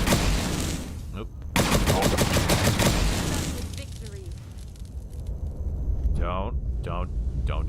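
Rapid gunfire in the video game Fallout 4 with the Sim Settlements 2 mod, loud dense bursts of automatic shots crowding together, then easing off to scattered shots and game noise near the end.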